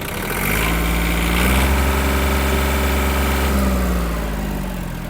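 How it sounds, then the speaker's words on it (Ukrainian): A small diesel engine on a Japanese Yanmar F-210 mini tractor revs up from idle, holding a steady, loud throbbing drone before easing back down, heard up close with no talking. "Давайте додамо трохи обертів."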